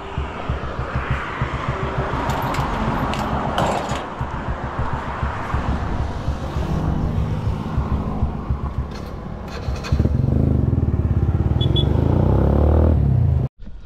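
Motorcycle with a freshly fitted engine and fuel tank running while being ridden, a continuous throbbing engine drone with rushing wind, growing louder and rougher for the last few seconds before cutting off abruptly.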